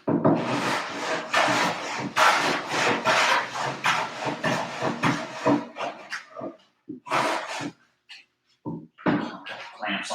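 A hand plane shaves down a wooden Mini Simmons surfboard in long, rasping strokes, loud and close, steady at first and then breaking into shorter, intermittent passes.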